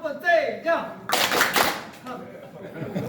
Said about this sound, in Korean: 자 신나는 박수 한번 좀 부탁합니다.